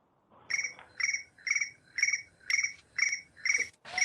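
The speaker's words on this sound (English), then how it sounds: "Apparently we have a cricket." A cricket chirps during a public board meeting in a quiet room. There are eight evenly spaced, bright chirps, about two per second, close and clear, with no talking.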